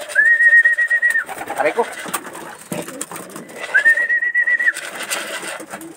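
Racing pigeons at a derby give two drawn-out cooing, whistle-like calls close by, each lasting about a second, with brief talk and background clatter between them.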